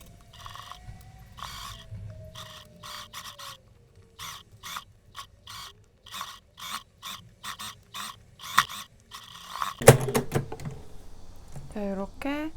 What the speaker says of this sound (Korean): 이렇게 해서 뱅글 돌려서 박음질 해줄게요